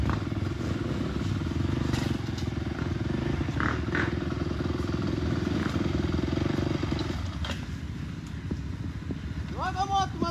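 A motorcycle engine drones steadily at close range on a dirt trail ride at Itararé, São Paulo, with a noisy, rough texture and faint voices in the background.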